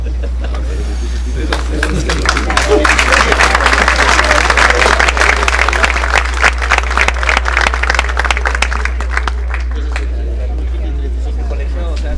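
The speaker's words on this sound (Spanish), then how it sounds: "Fuerte entonces el aplauso para el ingeniero Barzola Gastelú Carlos Armando" A crowd at a civil engineering week closing ceremony breaks into sustained, loud applause for an engineer, building quickly and holding steady before easing off near the end.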